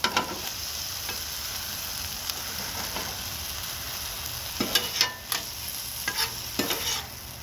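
Mushrooms sizzle on an outdoor griddle at night with a steady, even hiss. In the second half a spatula scrapes and taps the hot surface several times.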